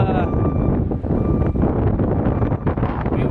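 Outdoor wind buffets the microphone with a continuous low rumble and gusty bursts, loud and close throughout, outside a federal courthouse in Nashville, Tennessee.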